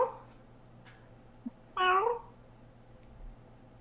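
A person's voice imitates a cat's meow, one short clear nasal meow near the middle, with a little faint speech before it in a quiet room.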